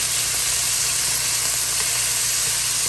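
Swai fish sizzling in an oiled pan as it is turned, a loud, constant hiss of frying oil with a low hum beneath and no speech.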